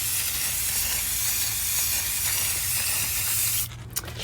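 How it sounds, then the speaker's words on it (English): Rust-Oleum 2X gloss clear spray paint hissing continuously from the can as a layer is sprayed onto a holo foil vinyl glitter tumbler, a loud steady spray that cuts off near the end. "I use my Rust-Oleum 2X gloss clear spray paint, and I spray 1 layer like this"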